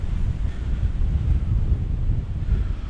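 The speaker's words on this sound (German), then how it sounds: "Da oben war es gerade richtig windig." Wind buffets the microphone on a hilltop mountain bike trail with a steady low rumble and rushing noise throughout, no voices.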